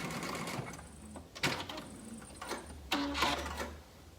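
A sewing machine zigzag stitching back and forth on elastic, running in a few short whirring bursts separated by pauses, close and fairly quiet.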